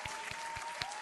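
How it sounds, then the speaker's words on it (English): A brief burst of applause from a few people, faint and slightly tinny, with sharp individual claps landing in an uneven rhythm. "I'm gonna clap it up for ASP, Trooper Bird"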